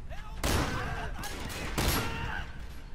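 Shotgun blasts boom out in the Sleeping Dogs video game, two heavy broadband bursts about a second apart over a continuous gunfight din, loud and close.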